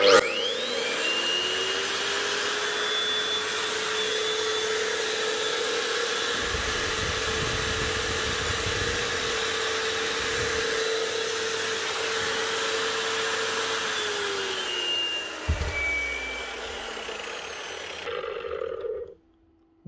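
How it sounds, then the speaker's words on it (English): A Makita angle grinder fitted with a Laser Chaser wall chasing head runs loud and close with a steady high whine, spinning up at the start, holding for about fifteen seconds with occasional heavier grinding, then winding down and cutting off. "One Makita grinder with a laser chaser wall chasing head attached to it."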